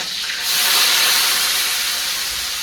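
Chopped radish hits hot oil with green chillies, setting off a sudden loud rush of sizzling that swells within the first half second and then hisses on steadily, close up and with no voices.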